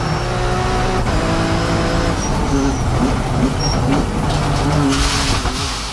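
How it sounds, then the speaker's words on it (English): A GT-MR endurance race car, a class between GT4 and GT3, drives at the Brands Hatch circuit, its engine loud, close and steady throughout, with gear changes audible and a brief rise of tyre or mechanical noise near the end. "An endurance car that fits between GT4 and GT3 specifications."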